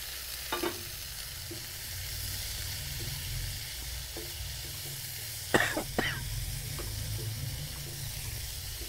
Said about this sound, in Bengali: এর মধ্যে আমি সিদ্ধ করে রাখা আলুগুলো দিয়ে দেব